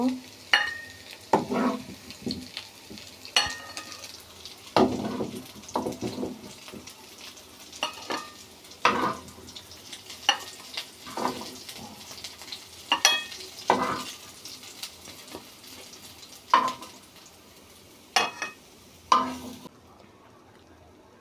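Spicy aloo chops fry in hot oil as they are turned and lifted out, with steady sizzling broken by repeated scraping and stirring strokes of a utensil in the pan, close and without talk.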